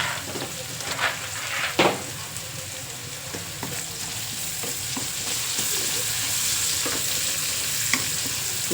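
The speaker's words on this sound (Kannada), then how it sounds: "ಈಗ ಫ್ರೆಂಡ್ಸ್ ಸ್ವಲ್ಪ ಕಡಲೆ ಬೀಜ ಹಾಕ್ತೀನಿ ಬನ್ನಿ." Peanuts fry in a pan while being stirred, giving a steady close sizzle broken by scraping strokes of the spoon against the metal, with no talking.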